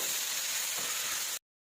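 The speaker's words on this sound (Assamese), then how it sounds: "এইফালে আকৌ মই ভাজি আছোঁ ফ্ৰেঞ্চবিন আৰু আলু ভাজি।" French beans and potato frying in a pan, a steady close hiss of sizzling oil that cuts off abruptly near the end, with no talking.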